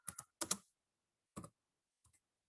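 Someone types on a computer keyboard nearby: quick bursts of crisp key clicks in small clusters, with pauses between groups and no talking.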